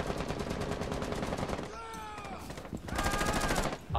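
Mounted light machine gun firing in Rainbow Six Siege, a dense, continuous burst of rapid shots running through most of the moment with a brief lull, loud and close amid game sound effects.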